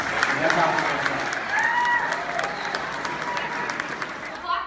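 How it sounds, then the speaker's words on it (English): A young audience claps for a speaker, a moderate patter of applause mixed with crowd noise and some voices over it. "That surprised me that he got that much of a clap from these youngins"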